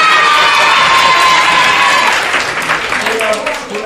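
Loud applause and cheering for a teacher at Mbezi Inn Secondary School: a large crowd of students claps and shouts close by, steady at first and then tapering, with voices calling out over it.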